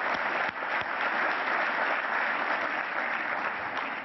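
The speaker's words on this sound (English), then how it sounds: "Give yourselves a round of applause." Applause from a large conference audience at a business summit, dense and sustained clapping that stays loud and even throughout.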